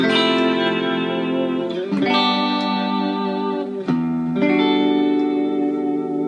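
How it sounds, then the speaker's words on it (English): Sustained electric guitar chords through a TC vibrato pedal, with a wobbling pitch vibrato effect, strummed again every couple of seconds, loud and close with no talking. "So TC makes this vibrato pedal."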